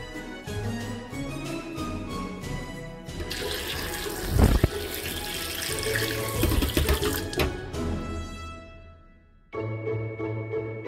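Running tap water splashes into a sink as dried fruits are washed for a Christmas cake. The flow is steady and close, with a brief louder gush partway through.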